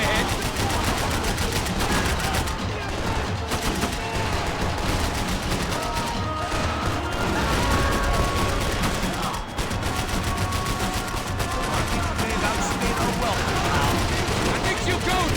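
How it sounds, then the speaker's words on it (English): Constant, loud gunfire from the video game Max Payne 3, with dense automatic bursts and bullets whizzing past, continuing without a break throughout. "Bullets whizzing past my head!"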